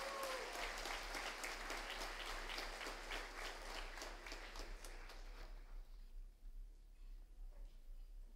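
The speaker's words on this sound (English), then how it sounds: "let's give Rebecca a big round of applause" An audience at a high school honors banquet applauds the senior class president, a dense roomy clapping with crisp individual claps that gradually thins out and fades.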